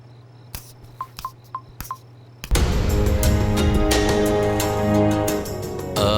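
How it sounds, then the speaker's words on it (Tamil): Mobile phone keypad tones: four short electronic beeps pressed at an uneven pace over a quiet low hum, then a sudden loud burst of dense music that carries on to the end. "நான் வெளியே போயிட்டு ஒரு ஃபோன் பண்ணிட்டு வந்துடுறேன்."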